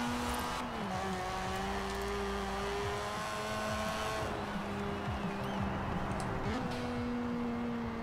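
A Mazda drift car engine in Forza Horizon 4 revs up and down repeatedly, pitch climbing high then dropping with gear shifts, loud and close, with brief tire noise.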